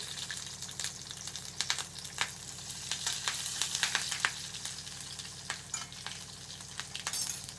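Cumin seeds, garlic cloves and green chillies fry in hot oil for atukula upma, a constant bright sizzle punctuated by frequent crackling pops and spits, close and alone.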